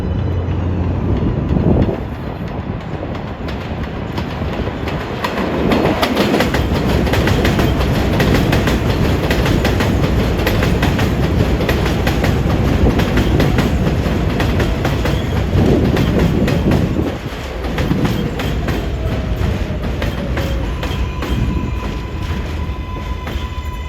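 An express train on the New York City subway 7 line roars past close by, a steady heavy rumble with rhythmic wheel clatter and faint squeals, swelling and dipping over nearly half a minute.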